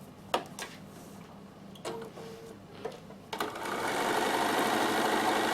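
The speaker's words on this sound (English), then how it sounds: "And I'm going to do my overlock stitch. So 3 straight stitches and a zigzag." On a tissue box or wet wipe cover, a sewing machine sews an overlock stitch of three straight stitches and a zigzag. A few sharp clicks and knocks come first, then a steady, close mechanical whir.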